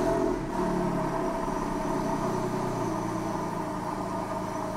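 A car fitted with new Viagra engine mounts and a louder exhaust idles steadily close by, a continuous low rumbling drone with no talk.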